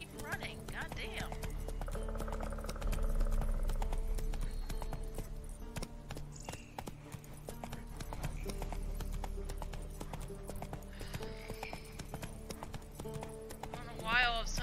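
The horse Roach gallops in The Witcher 3 video game, a steady rapid clip-clop of hooves running throughout, with someone talking over it.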